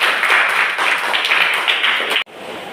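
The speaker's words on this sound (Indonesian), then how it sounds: "Oke, tepuk tangan dulu." A classroom of students claps together in a lively, fairly loud burst with a slightly pulsing rhythm, cutting off abruptly, followed by quieter room sound.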